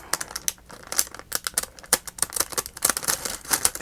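Pinking shears snip and chew repeatedly at thin glassine paper, a close, irregular run of crisp clicks and crinkly rustles with no talking.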